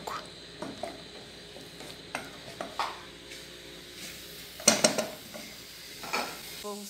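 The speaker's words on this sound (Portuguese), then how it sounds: "Aí deixa só a cebola e o pimentão dourar." Onion and bell pepper frying in a home kitchen pan, with faint sizzling under repeated scraping stirs and clinks of a utensil against the pan, plus a sharper metallic clatter near the middle.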